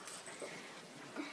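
A puppy gives a few soft, brief whimpers and whines in a quiet indoor room, faint and spaced apart, with no talking over them.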